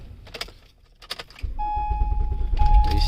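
Keys jangle close by for a moment, then a car engine is restarted with the key, catching and settling into a steady running hum with a thin electrical whine over it.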